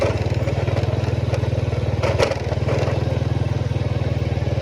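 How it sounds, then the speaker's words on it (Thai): A dirt bike ridden along a rural track near Xaisomboun, Laos, its engine putting out a steady, droning putter with a brief clatter midway, fairly loud and continuous throughout. "ขี่รถดินทุกคนเลย"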